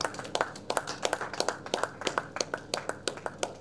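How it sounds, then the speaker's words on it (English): Hands clapping at the close of a morning workshop session on problem-based education, a steady patter of individual claps from a modest audience, fairly close and even in rhythm for several seconds. "A big, big round of applause"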